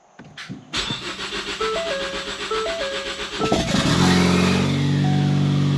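A Ford Focus ST engine cranks briefly with a whirring starter, then catches and fires into a loud, steady idle with a hissing, rumbling tone up close.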